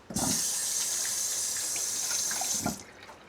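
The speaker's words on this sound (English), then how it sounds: "now I gotta wash my hands" Tap water runs into a sink as hands are washed under it, a steady close gush that starts abruptly and cuts off after a few seconds, with faint splashing.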